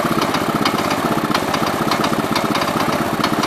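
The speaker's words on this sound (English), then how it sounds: "this motor sounds pretty bad. I think it would sound better if it had a different carb on it." A 1969 Gravely 432 tractor engine runs roughly with a poorly suited carburetor, a steady, loud, close chugging idle with uneven knocking pulses throughout and no voices.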